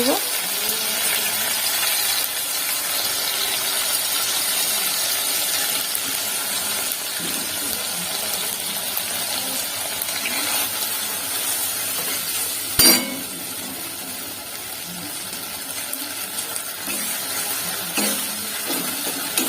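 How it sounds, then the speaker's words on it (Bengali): Mustard and poppy seed paste masala for pomfret curry fries steadily in hot oil, a continuous close sizzle with one sharp clatter partway through. "মশলাটা ভালো করে কষানো হয়ে গেছে"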